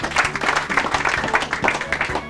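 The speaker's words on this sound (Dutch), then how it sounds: "Geef ze een daverend applaus nog een keer." Dense clapping from a crowd at a café opening in Bornerbroek, steady and fairly loud throughout the short stretch, with a low hum and a few voices underneath.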